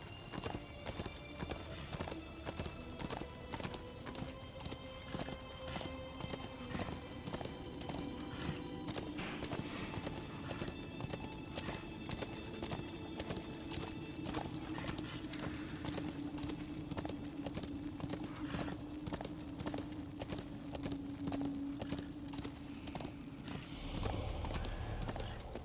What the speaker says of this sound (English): It's gonna be a long walk if we don't take our horse.